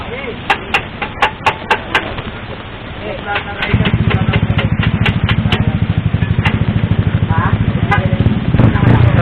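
A Suzuki Raider 150 motorcycle at a racing event idles close by, a loud rapid putter that starts partway through after sharp clicks and clatter, running steadily to the end with voices around it.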